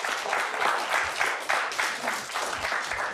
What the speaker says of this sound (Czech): A tleskáme za váš názor